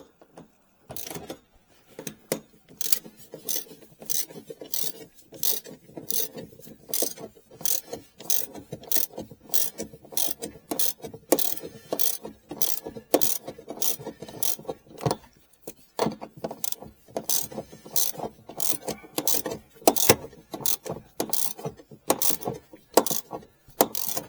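A ratchet wrench tightens the rear shock bolt on a 2001-2007 Ford Escape, giving long runs of quick, crisp metallic clicks close up with brief pauses between strokes.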